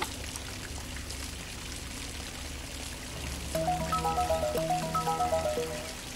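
Water trickling through a puzzle in the adventure game Namariel Legends: Iron Lord, a soft steady flow that shifts into a gentle chiming melodic run near the end, faint and without talk.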